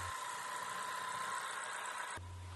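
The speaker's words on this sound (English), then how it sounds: "Start the engine and check for leaks." A 4-cylinder Honda CR-V engine idles steadily just after starting, a continuous mid-pitched hum with a faint whine, running close and alone until it settles slightly lower near the end.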